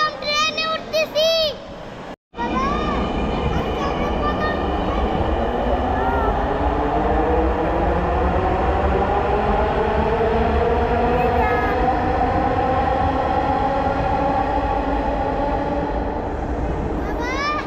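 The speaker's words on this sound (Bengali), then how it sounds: "আজকে আমরা প্রথম ট্রেনে উঠতেছি" A metro train runs with a steady, loud rumble and rising whine from start to finish, following a few seconds of voices and a brief cutoff, with people talking faintly inside the carriage.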